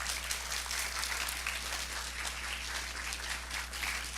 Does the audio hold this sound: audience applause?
yes